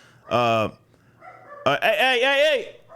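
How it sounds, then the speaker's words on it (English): A dog barks and yowls nearby, one short bark followed by a longer, drawn-out howling bark. "The dogs are barking while I'm doing the video."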